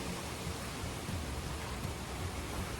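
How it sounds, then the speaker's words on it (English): Steady, even hiss of light rain from Hurricane Nicole in Vero Beach, Florida, with a constant wash of wind noise, no voices, unchanging throughout. "Just a little bit of rain coming through."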